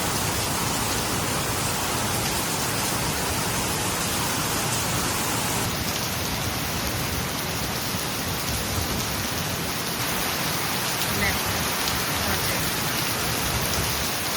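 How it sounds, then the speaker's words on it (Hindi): Heavy rain pours steadily in Assam, a dense, constant hiss of downpour close by that stays loud and unbroken throughout, with no voices over it. "कभी भी बरसात कर देता है"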